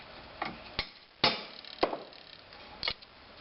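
A hand dimpler tool pressing dimples into sheet metal, giving several sharp separate metallic clacks at an uneven pace, fairly close and moderately loud, with no talking.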